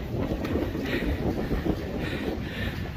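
Steady wind buffeting a microphone while fishing outdoors on the Wirral, a constant low roaring rumble with no letup and no speech.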